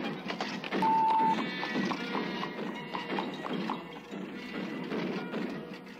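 Horses trot past with steady clip-clop hooves on a hard surface, a continuous rhythmic clatter at moderate distance, joined early by a brief whinny, with no one speaking.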